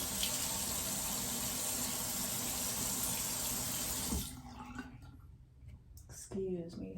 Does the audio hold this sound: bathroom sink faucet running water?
yes